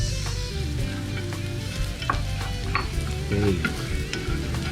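Chilies and garlic sizzle loudly in a pan for a tomato pasta, with a steady crackling fry broken by scraping stirs of a utensil; one brief word is spoken.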